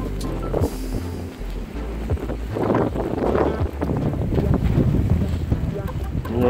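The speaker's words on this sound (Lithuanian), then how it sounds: "čia paputė vėjelis" Wind gusts roar across the microphone on a boat on Kaunas Reservoir during perch spinning. The rumble is steady and loud, with low thumps and a voice speaking under it.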